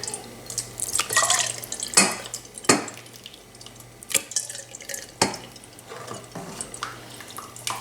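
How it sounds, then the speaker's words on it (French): Fresh Moroccan cheese draining through a chinois strainer gives soft drips, splashes and light metallic clinks of kitchenware, irregular and close, with no one talking. "j'ai mis un passoire en chinois et je vais mettre le fromage à égoutter comme ça"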